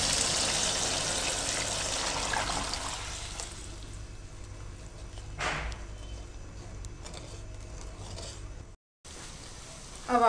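Water, 1.5 litres, is poured into a pot of rice for peas pulao. It makes a steady splashing rush for the first few seconds, then fades to a quieter background, with a brief soft splash later.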